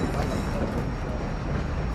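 Steady low rumble of a train rolling past in Call of Duty DMZ, a dense, continuous roar without distinct clacks, fairly close and unbroken for the whole moment.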